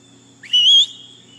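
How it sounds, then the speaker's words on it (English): A single sharp human shepherd's whistle commanding a sheepdog, rising then holding a high bright tone for about half a second, over a low hum. "That's a whole whistle."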